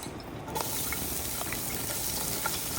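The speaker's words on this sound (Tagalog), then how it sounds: "Guys, igisa na natin ang sibuyas." Chopped onion sautéed in a hot pan, with a steady broadband sizzle that bursts in after about half a second and holds at an even level, close and fairly loud, with no talking.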